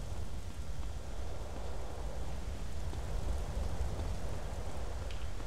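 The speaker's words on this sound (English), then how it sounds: "And it's raining again." Steady, even rain hisses across the whole stretch in Grand Theft Auto: San Andreas, a continuous moderate wash of rainfall with no voices or distinct events over it.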